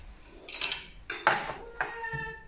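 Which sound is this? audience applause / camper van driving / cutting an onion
cutting an onion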